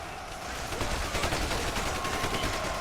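Army gunfire rattles in a massive battle against zombies in Ultimate Epic Battle Simulator, a dense continuous roar of rapid shots blended into one loud wall of noise.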